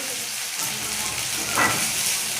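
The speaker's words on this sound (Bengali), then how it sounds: "রিফাইন তেল দিলাম কড়ায়। দেওয়ার পর জিরে, দিয়ে দিলাম গাজর" Carrots and cumin seeds fry in refined oil in a wok, giving a steady close hiss and sizzle with a brief louder crackle partway through, and no voices.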